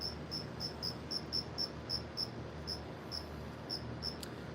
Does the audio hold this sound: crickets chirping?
yes